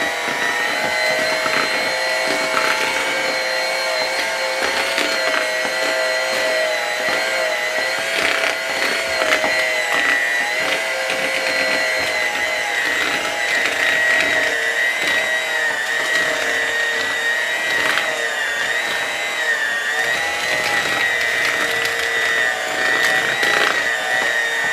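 An electric mixer whirs continuously and loudly through gluten-free, dairy-free pineapple upside-down cake batter with eggs, a steady high motor whine with slight wavering, and no talking.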